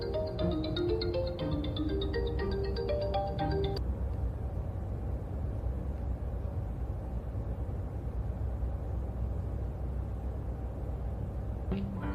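A phone ringtone plays a bright electronic melody in a drama scene for about four seconds, then cuts off, leaving a low steady room hum with a faint click near the end.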